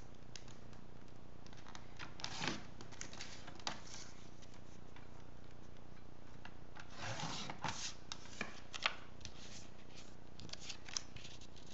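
Scissors cutting pattern paper for a handmade birthday card: quiet, close snipping and rustling paper, with bursts of cutting strokes separated by pauses of soft handling.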